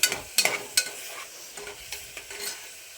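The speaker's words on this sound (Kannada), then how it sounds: "ಪಲಾವ್ ಎಲೆ, ಮರಾಠಿ ಮೊಗ್ಗು, ಚಕ್ಕೆ, ಆನಂತರ ಮಸಾಲ ಪದಾರ್ಥ ಎಲ್ಲ ಹಾಕ್ಕೊಂಡು ಹಿಂಗೆ ಅಲ್ಲಾಡಿಸಬೇಕು" Bay leaf, cloves, cinnamon stick and masala spices stirred in a hot pan for egg biryani, giving a few sharp scrapes and clatters early on, then lighter intermittent stirring over a soft sizzle.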